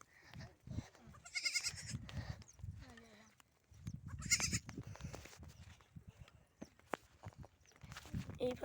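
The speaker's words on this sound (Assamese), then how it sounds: "এয়া আমাৰ ছাগলী পোৱালিকেইটা" Young goat kids bleating on a village farm, several short cries scattered among footsteps and rustling, fairly close, with a person speaking quietly in between.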